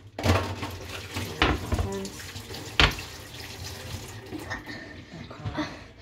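Kitchen tap water runs into a sink while something is washed during turnip soup preparation, a close splashing stream broken by a few sharper clatters and knocks.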